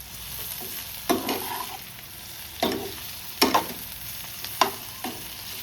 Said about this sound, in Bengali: এবার চিনিটাকে মিশিয়ে দিচ্ছি।